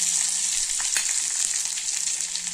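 Ginger garlic paste, curry leaves and capsicum sautéing in oil with cumin for a ridge gourd gravy, a steady bright hiss of frying with a few faint stirring clicks, close and continuous without talk.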